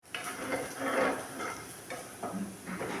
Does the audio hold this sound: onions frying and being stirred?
yes